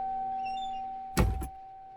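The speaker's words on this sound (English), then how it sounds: "You can close your door right here as well." A cockpit door on a Boeing 727-200F in a flight simulator shuts with a solid thunk followed by a quick second latch click, close and short, over a steady electrical hum.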